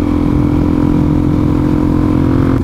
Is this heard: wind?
no